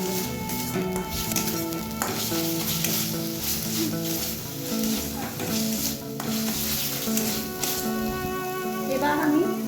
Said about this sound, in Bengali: আদা রসুনটাকেও একটু পেঁয়াজের সাথে ভেজে নেব।